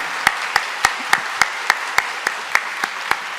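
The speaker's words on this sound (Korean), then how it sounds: "격려와 박수 부탁드립니다" Clapping in a church congregation during a Sunday service, heard as a slow, regular beat of single sharp claps spaced about every quarter second, crisp and fairly near, with no talking over it.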